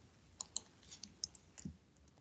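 Someone types on a computer keyboard during a class recording: faint, scattered clicks of keys in a quiet room, sparse and irregular, with no talk.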